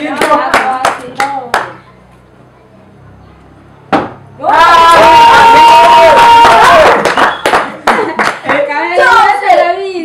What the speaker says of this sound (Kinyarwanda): muzamura amashyi mwagiye gutsinda